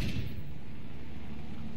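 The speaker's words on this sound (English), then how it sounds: "Man, what a cannon." Aircraft cannon firing during a dogfight in the air combat game War Thunder, with a heavy, sustained rumbling burst that is loudest at the start and then holds steady as a dense roar.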